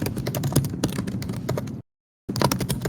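Rapid typing on a computer keyboard, a dense stream of close, clicking keystrokes that stops briefly into silence before resuming.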